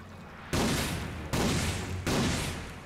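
Three loud, sharp bursts of weapon fire in the PS4 game Ratchet & Clank, spaced under a second apart, each one a heavy blast that slowly fades into the next.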